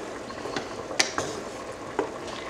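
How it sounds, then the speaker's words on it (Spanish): Meatball sauce stirred in a pot for Cuban-style spaghetti, with a few scraping spoon strokes against the pot under a soft bubbling hiss, close and moderately quiet with no talk. "Lo meneo bien."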